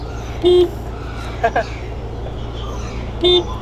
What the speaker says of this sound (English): Your horn. Let's see what this does.